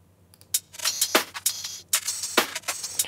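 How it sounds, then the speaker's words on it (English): Cash register topper percussion loop played in Logic Pro: crisp mechanical clicks, clacks and ringing bell-like hits in a loose, repeating rhythm, loud and alone over a faint steady hum. "one of the layers is this loop here, which you can find under a cash register topper"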